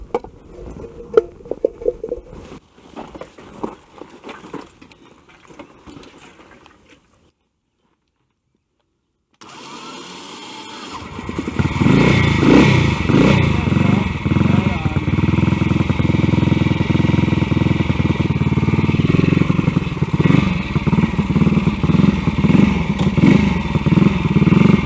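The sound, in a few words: motorcycle engine running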